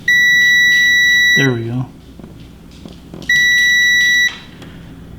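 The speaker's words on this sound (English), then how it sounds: "If it beeps, the fuses are still good." A multimeter on continuity setting beeps while testing the fuses of a Christmas tree light string, two loud steady electronic tones about a second long separated by a pause, with someone speaking briefly between them.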